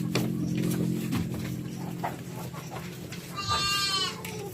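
Goats bleating nearby during feeding, a wavering cry rising over a steady farmyard background hum.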